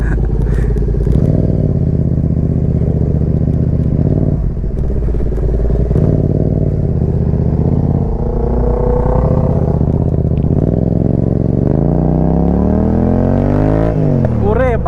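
An off-road vehicle churns through sand, its engine droning loud and close and rising in a steady revving sweep toward the end, with people talking over it throughout.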